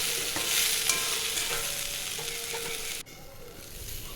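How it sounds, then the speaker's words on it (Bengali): Yardlong beans and mixed vegetables seasoned with salt and turmeric stir-fry in a pan for an alu borbotir posto dish, with a steady loud sizzle and scraping stirs that drop away abruptly near the end. "আরও কিছুক্ষণ বরবটিগুলো একটু ভাজা করে নেব।"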